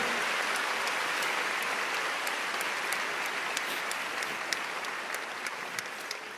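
Church congregation applauding during a Portuguese-language worship service, a dense, steady wash of many hands clapping throughout, loud and continuous with no voices standing out.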